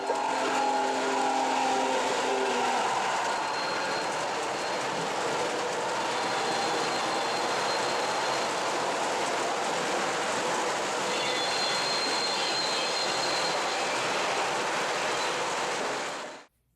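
An MTH 4014 Big Boy model locomotive runs with sounds recorded from the real engine, a loud continuous rumbling chuff and rail roar with faint whistle-like tones, steady throughout before cutting off at the end.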